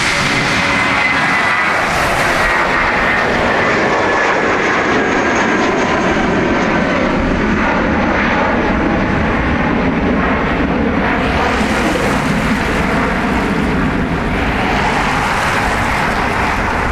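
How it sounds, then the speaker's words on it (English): SAS airliner at Dublin Airport gives a loud, continuous roar of aircraft engines, close by and steady throughout, with no talk. "This is the SAS with the party nose, look."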